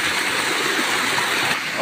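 Flowing river water near a landslide site rushes in a loud, continuous wash close by, with a brief splashy burst near the end.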